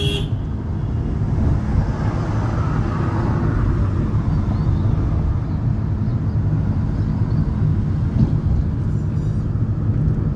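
A car driving on the road, heard from inside as a loud, steady low engine and road rumble that continues throughout with no talking.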